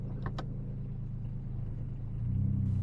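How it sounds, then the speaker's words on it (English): A car with newly fitted electric vacuum pump power brakes driving on an open road, a steady low engine and road rumble heard from inside that swells slightly near the end. "let's take this car out for a quick ride and see how the brakes feel out on the open road"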